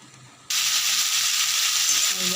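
Potatoes hit a hot pan and burst into a loud, steady sizzle that starts abruptly after a quiet moment and keeps hissing evenly in a home kitchen.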